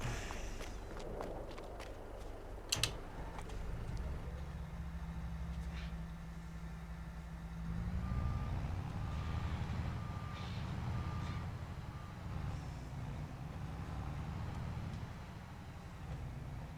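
Farming Simulator 22 truck idling with a low engine rumble, joined midway by a steady series of high reversing beeps, alongside occasional footsteps and clicks.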